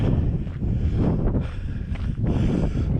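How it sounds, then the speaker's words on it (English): Strong wind roars and buffets against the microphone in a continuous, heavy rumble with gusty swells and dips. "It's windy now, so I'm speaking louder."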